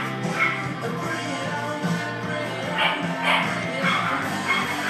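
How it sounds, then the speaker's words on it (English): Brand-new chocolate Labrador and golden retriever puppies bark and yip in a steady busy chorus, with overlapping high yelps and soft whimpers close by and no speech. "Chocolate, lab, golden retriever. Good dogs. Brand new."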